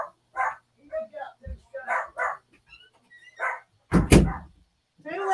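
A dog barks indoors in a few short, loud yips and bow-wows, separated by pauses, with one sharp burst standing out near the end; no one talks over it.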